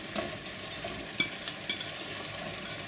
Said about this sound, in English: We're going to sauté these off